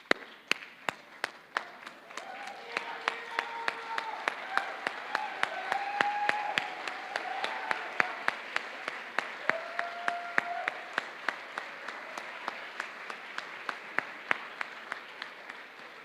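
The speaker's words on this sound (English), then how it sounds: "give them a round of applause, standing ovation, please" A convocation audience at an honors ceremony rises for a standing ovation, sustained applause with sharp individual claps standing out over a broad wash, heard from a distance in a large hall, with some tones sounding through it.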